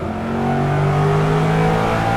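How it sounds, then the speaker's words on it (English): A race car modded into Assetto Corsa at Sonoma revs hard, its engine note climbing steadily in pitch through a sustained, loud pull with layered harmonics, close and uninterrupted by voices. "should also note that the flat shifting is a great feature."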